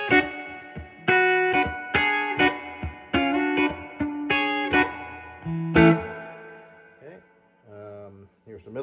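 Electric guitar on its middle pickup plays through an amp, a quick run of plucked chords and single notes with a clean, slightly bright tone and a little reverb.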